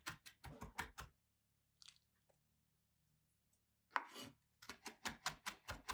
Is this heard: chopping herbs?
yes